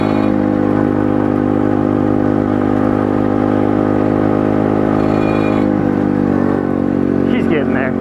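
A resurrected pit bike engine idles and runs steadily up close, with a constant harmonic drone throughout and a slight pitch dip toward the end.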